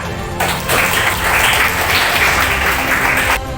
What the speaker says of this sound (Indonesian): marilah kita berikan aplaus pada Sahara